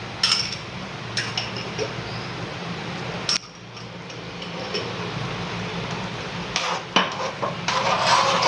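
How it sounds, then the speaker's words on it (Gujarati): Butter and Schezwan chutney stirred in a pan, with a steady scraping and clinking of a spoon against metal and a few sharper knocks, close and fairly loud throughout. "અને હલાવી લઈશું."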